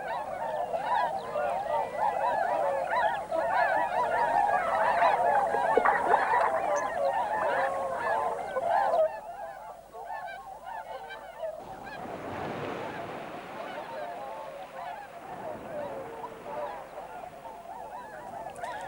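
Swans calling at Slimbridge wetland reserve, a dense chorus of honking calls from many birds carrying on steadily, then thinning after the midpoint into scattered, quieter calls over open-air background.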